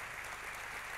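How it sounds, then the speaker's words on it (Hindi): A brief burst of dense audience applause at a Vestige gathering, a faint, even wash of many hands clapping with no distinct individual claps. "इन लोगों को आप सबको बहुत जोरदार तालियों से स्वागत करना चाहिए इनकी हिम्मत का।"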